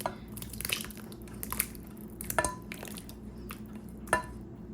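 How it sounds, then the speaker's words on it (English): Banana nut muffin batter is stirred by hand in a bowl, giving soft, quiet squishing and scraping strokes with a few light taps of the utensil against the bowl's side. "just going to mix everything by hand."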